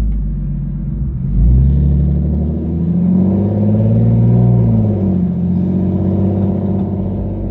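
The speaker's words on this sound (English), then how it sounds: "let's check out the new exhaust mod" A modified Infiniti G35 exhaust rumbles deeply at idle, then rises in a throaty rev and settles back into a low, steady burble close by.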